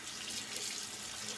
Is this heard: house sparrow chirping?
no